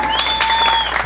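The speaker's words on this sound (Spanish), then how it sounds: "Aplausos para la tercera pareja." A short burst of audience applause greets the third dancing couple at a dance contest in San Felipe Zihualtepec, Oaxaca, loud and close, with a steady electronic whistle tone running through it.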